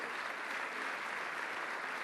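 An audience at an economy and development awards ceremony applauds an honoree, a sustained, even wash of clapping heard at moderate distance without any talk over it.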